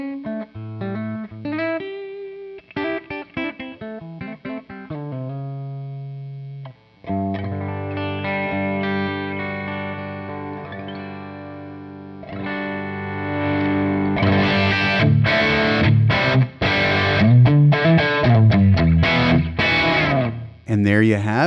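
Electric guitar through a Quad Cortex capture of a Dr. Z Z-Rec Junior amp with the guitar volume rolled back, starting with cleaner picked notes and moving into denser, grittier chords and strums.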